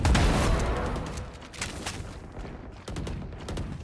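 Gunfire sounds in a Valorant pro match between PRX, Boom, Talon and Nongshim RedForce, with rapid bursts of automatic shots and single cracks heard in clusters at a moderate distance and a low rumble at the start.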